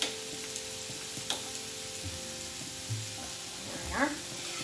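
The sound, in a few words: stirring liquid into a bechamel roux in a pan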